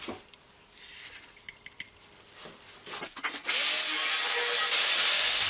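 A power tool cuts material for a homemade drone range extender. Some scraping and handling noises come first, then the tool starts up partway through and runs loud and steady until the end.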